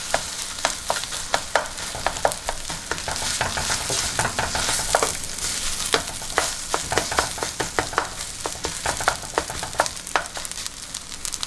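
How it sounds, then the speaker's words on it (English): Eggs frying in a pan for Vietnamese fried rice, a steady hot sizzle running throughout with regular scraping and tapping of a utensil stirring the pan, no talking. "So now while our eggs is cooking"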